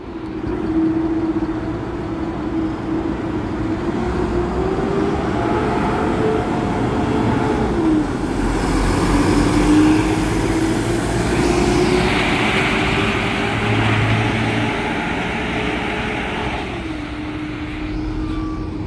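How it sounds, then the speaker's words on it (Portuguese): A Nordeste Space Bus coach pulls into the Campinas bus station with a continuous low engine rumble and a steady whine that drifts in pitch, all in a busy, echoing terminal. "O belo Space Bus da Nordeste, chegando da capital do Paraná"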